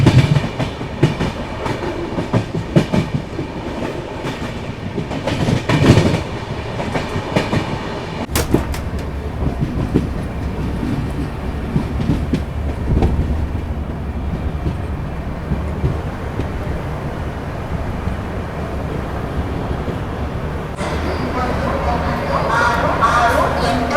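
Palace Queen Humsafar Express, hauled by a diesel locomotive, arriving at Davangere station: a long rolling rumble of coaches with clattering wheel beats, changing partway through, with a voice talking over the train.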